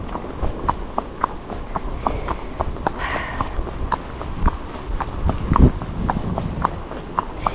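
An ex-racehorse walking down a country lane on a hack, its hooves striking the surface in a steady, even clip-clop rhythm close by, with a brief soft rustle midway and no talking.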